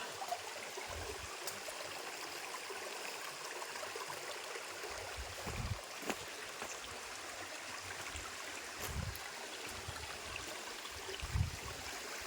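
Water flows steadily near Chaulbhaja waterfall, a constant soft rushing stream heard throughout at low level, with a few faint low thumps rising briefly under it.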